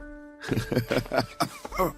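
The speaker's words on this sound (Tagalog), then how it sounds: "Inuubo na po kayo." An elderly grandfather coughs in a rapid series of harsh, close bursts, one after another, following a faint tonal hum at the start.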